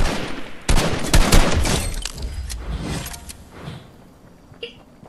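Gunfire in Fortnite, heard as a loud volley of sharp shots near the start followed by scattered, fading reports, with game clatter underneath and no talk.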